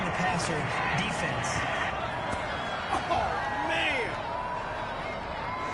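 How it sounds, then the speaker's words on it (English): A stadium crowd in an American football video game reacts badly to a penalty call, producing a steady, dense roar of disapproval that continues at an even level throughout. "this crowd does not like that call"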